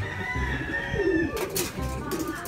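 Pigeons coo near a loft, soft low calls repeating close by, with a voice talking faintly and brief rustles in between.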